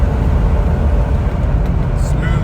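A 2006 Jeep Wrangler LJ Unlimited's engine roars steadily under full acceleration uphill, a loud, dense, continuous drone recorded from inside the vehicle with no pauses.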